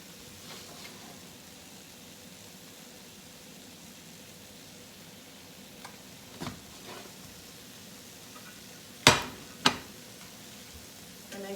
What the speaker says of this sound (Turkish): şöyle ocağın üzerinde kenarlarını birazcık daha kızartıyoruz